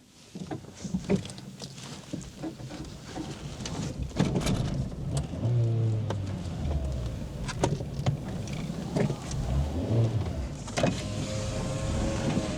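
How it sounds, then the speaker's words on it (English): A cheap Renault Clio is bump started in reverse, its engine turning over with low rumbling and clunks that grow louder and rougher, with some rattling over about twelve seconds, close and with no talking. "I'm gonna have to bump it in reverse."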